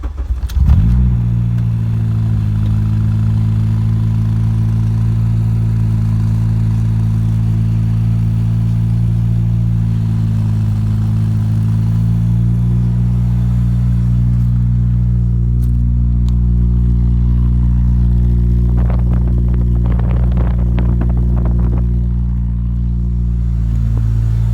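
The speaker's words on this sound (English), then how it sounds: "And I'll start it up. It's 3-inch exhaust. It's a little loud on first starts." A Honda EK hatchback with a K24 engine cranks from a cold start and fires up, then settles into a loud, deep, steady idle through a 3-inch exhaust, rumbling close by with no talking.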